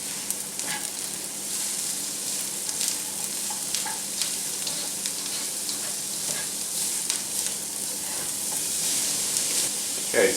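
Minced beef and finely chopped carrots sizzle steadily in a pan while being stirred, with a continuous close frying hiss and scattered scraping clicks from the spoon.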